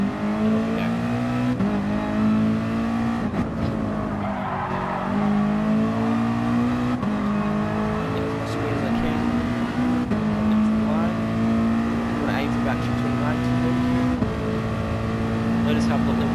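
Race car engine in the video game GT Sport, revving steadily through a full-power lap and held just short of the redline, with a pitch that rises and drops at each shift, heard under continuous talk.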